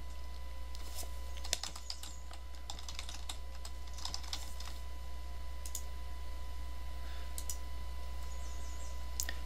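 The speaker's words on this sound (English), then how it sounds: "Just click the Add Project button to add a project." A computer mouse clicks a button in email archiving software, making sharp, quiet clicks that come in several scattered bursts over a steady low background hum.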